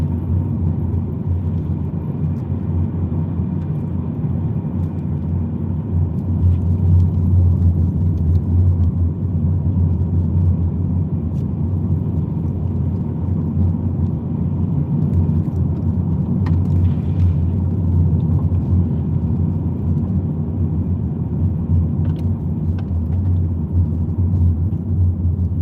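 A car rolling steadily along a road, with a continuous low engine and tyre rumble heard from inside the cabin, loud and unbroken with no voices.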